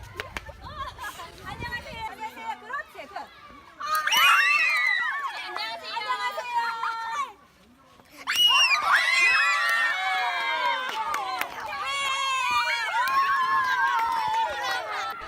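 Crowd of children shouting, screaming and laughing as they run and play at an elementary school rope playground in Cambodia; loud, busy bursts of high voices with a brief lull midway, then steady lively noise.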